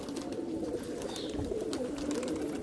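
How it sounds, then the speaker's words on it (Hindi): Rajasthani pigeons coo in soft, continuous, overlapping calls, close by, with faint chirps over a steady background and no talking. "ये आप देख सकते हैं तारिक भाई के कबूतर"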